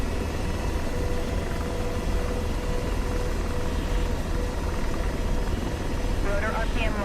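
A heavily loaded helicopter in DCS World, rotor RPM sagging, gives a continuous loud rotor and turbine rumble, with a brief warbling warning tone near the end.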